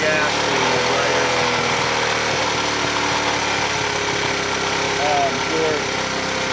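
A 1980 Honda Trail CT110 motorcycle engine idles steadily up close, a continuous buzzing putter that swells slightly near the end, with a voice talking over it.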